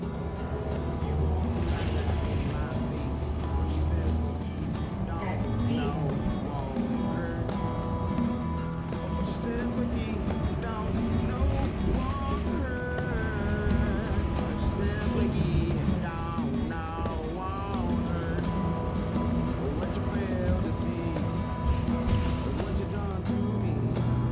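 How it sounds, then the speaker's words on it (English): Ride aboard a DART city bus through Des Moines on a Saturday morning: a steady engine drone with creaks and rattles from the cabin, mechanical clunks and squeaks, continuous throughout with no clear talk. "These are really nice buses"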